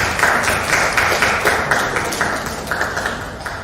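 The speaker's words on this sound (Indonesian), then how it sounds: "Tepuk tangan Ibu Yusi." Clapping for a guest speaker at a teachers' dissemination session held at a high school, a steady patter of hands sustained for several seconds at moderate volume with no talk over it.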